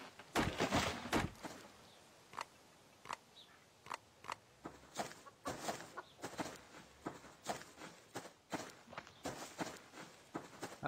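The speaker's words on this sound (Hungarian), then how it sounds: "most a tyúkokat elég könnyen meg tudtam fogni" In the survival game Subsistence, chickens cluck amid a steady run of footsteps as they are chased and caught, the clucks sitting faintly among regular thuds with no talk over them.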